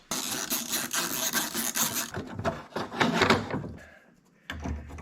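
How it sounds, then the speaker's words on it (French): Fuel filter screw being worked loose under an Opel Z20LET-engined car, a run of close scraping, rasping metal-on-metal turns with brief pauses, no talk. "Allez, on dévisse, on enlève la vis."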